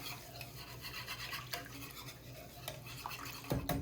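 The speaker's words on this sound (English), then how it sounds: "I'm just going to give that a stir." Milk, a full 32-ounce quart, being stirred into macaroni in a pot, a steady scraping and sloshing with soft utensil clinks on the pot and a louder clatter near the end, no voices.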